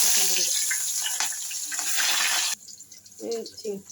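Sliced onion hitting hot soybean oil for noodles sets off a loud, bright hiss that cuts off abruptly after a couple of seconds, and then someone speaks.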